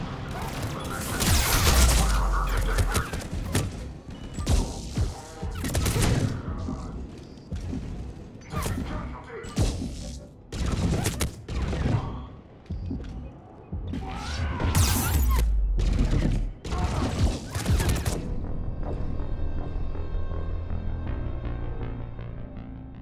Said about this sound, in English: They're under fire. Let's get in there!